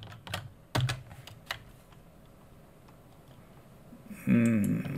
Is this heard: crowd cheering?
no